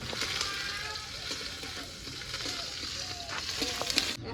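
Cumin, bay leaves and chopped onion frying in hot oil give a steady, bright sizzle with occasional crackles and pops, fairly close and continuous throughout.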